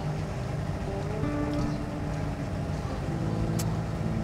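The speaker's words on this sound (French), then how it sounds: "Là, le moteur commence" A car engine drones steadily and loudly from inside the vehicle during a driving lesson, starting to labour and struggle with a rough, continuous rumble.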